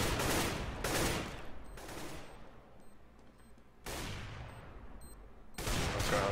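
Gunfire in CS:GO on the de_mirage map: loud, dense bursts of rapid automatic shots come in several volleys, with short quieter gaps between them.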